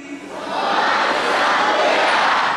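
A graduation crowd in Indonesia chants back in unison to a leader's call, a broad, loud swell of many voices that rises quickly and holds steady.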